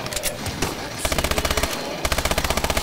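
Rapid automatic gunfire in the ExoZombies video game, a bright, steady stream of shots that pauses briefly before resuming, loud and close with no talking over it.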